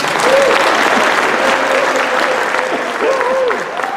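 Applause from diners at a Rotary district foundation dinner honoring the speaker's wife, a steady, full round of many hands clapping with faint voices rising through it.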